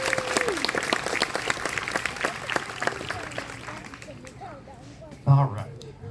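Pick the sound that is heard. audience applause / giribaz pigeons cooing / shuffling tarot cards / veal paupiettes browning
audience applause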